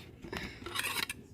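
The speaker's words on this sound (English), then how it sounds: "So we just keep going around, prying up this keyboard slowly." Plastic scraping and clicking as a Lenovo ideapad 100-15IBD laptop keyboard is slowly pried up, a short close rasping scrape with a few small snaps.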